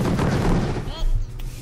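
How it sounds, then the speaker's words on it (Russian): A firework explosion in the artillery game Wormix lands as a loud booming blast followed by crackling, whistling bursts, set against a steady game background with a voice over it. "Один фейерверк."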